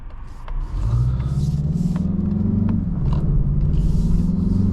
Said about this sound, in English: I love the turbo whooshes that you actually still are able to hear from under the hood there